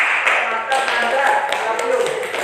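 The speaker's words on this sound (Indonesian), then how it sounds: "Tepuk tangan buat Nanda." Classroom applause for a student, a few seconds of scattered clapping from a group of pupils, fairly close, with voices mixed in.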